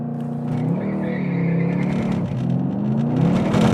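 A Mercedes-AMG C 63 S launches and accelerates hard down a drag strip, its engine note climbing in pitch as it pulls through the gears, loud and close with no talking.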